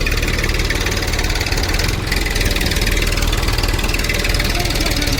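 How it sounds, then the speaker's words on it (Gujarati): A tractor engine runs steadily at idle, a loud, continuous low rumble with a rough mechanical vibration and no pauses. "આ બીજું ટ્રેક્ટર લાવ્યા છે"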